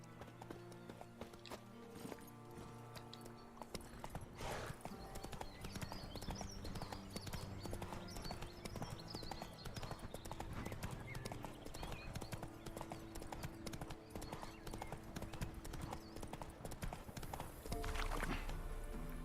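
Horse galloping in The Witcher 3, a close, rapid clip-clop of hooves over game music and ambience, continuing steadily for the whole stretch.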